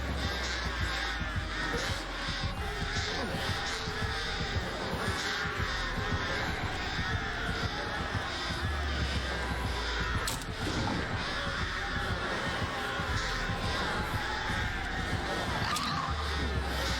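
Crows caw repeatedly in the Dead by Daylight video game, harsh calls recurring throughout over a dense, steady game soundscape.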